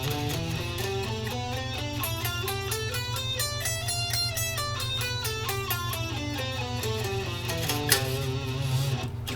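Guitar scale run up and then back down with alternate picking, each note picked once in an even, steady stream of clear, separate notes, played alone with no talking.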